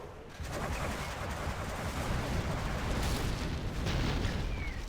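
An Anthrax bomb explodes during a Stealth versus Demo match in a strategy video game, a sustained, distant-sounding rumbling roar that swells and lasts several seconds.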